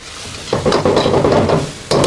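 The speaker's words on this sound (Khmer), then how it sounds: "ចាក់មីយើងចូល" Noodles are dropped into a hot pan with a thick white stir-fry sauce. A loud sizzle bursts up suddenly after a quiet start, then continues with stirring scrapes, and a second surge comes near the end.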